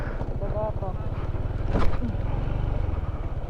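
A small motorcycle engine idles with a low, steady putter, close by, in Zambales, while wind buffets the microphone and a voice briefly speaks over it.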